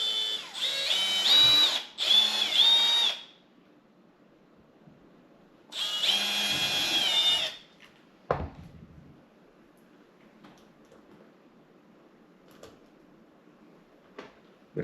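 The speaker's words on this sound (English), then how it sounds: "But I am using a screwdriver to tighten it." Screwdriver tightening a screw on a 3D printed Fender Telecaster-style guitar: two bursts of whirring powered driving, the first with two quick pulses, followed by quiet clicks and light taps as the tool is set down and handled.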